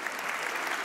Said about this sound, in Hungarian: Taps lenne itt, ha értenék